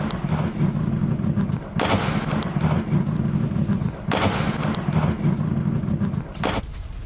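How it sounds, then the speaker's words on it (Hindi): Heavy, continuous rumbling blasts roll over the area around a US base in Baghdad during an Iranian attack, loud and sustained, with sharper bursts marking several distinct surges. "हमले के बाद यहां पर कई धमाके एक साथ सुने गए"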